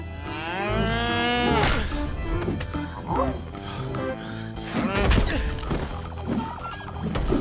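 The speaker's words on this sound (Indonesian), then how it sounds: "Dairy cow." A dairy cow moos loudly in long, drawn-out calls over a busy background of thumps and other noise, with a voice briefly audible.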